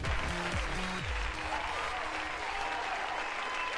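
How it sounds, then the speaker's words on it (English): A burst of crowd applause plays from a soundboard, dense and steady, with a short low musical sting at the start. "I got applause."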